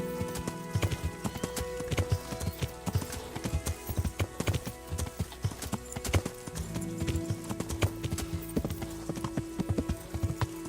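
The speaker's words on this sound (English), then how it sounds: "It's just a random person who parked his horse there." Steady clip-clop of horse hooves on a hard surface in a video game, with rhythmic clattering steps continuing throughout and a faint tonal background.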